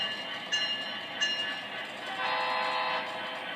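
An MTH HO scale model train locomotive running with a steady mechanical hum and whir, with a couple of brief higher tones near the start.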